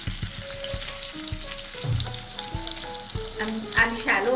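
Oil sizzles and crackles steadily in a pan as steamed chicken lentil dumplings shallow fry, with occasional clinks and scrapes of a utensil.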